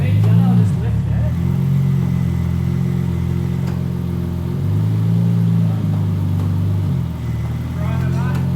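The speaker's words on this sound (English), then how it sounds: "Rev it up and then dump it into D." Holden Torana powered by a 1JZGTE engine, revving loudly up close with a deep steady drone that swells and eases several times, while people talk over it.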